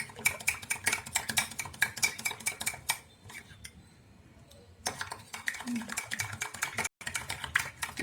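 A utensil scrapes and clinks steadily against a bowl while a whitening cream mixture is stirred into a paste, the rapid stirring pausing briefly midway before resuming, with a voice speaking faintly.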